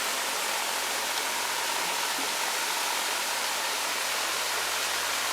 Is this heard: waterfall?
yes